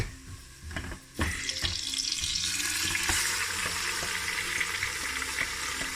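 Mutton chops dropped into a pan of browned sliced onions, a thump and then a loud continuous sizzle with faint stirring clatter close by.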